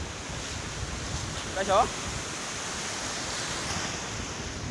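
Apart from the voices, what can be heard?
big ocean waves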